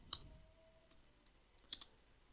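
A button is clicked several times in a quiet room: a sharp click, another soft one a moment later, then a quick double click, each brief and clearly separated.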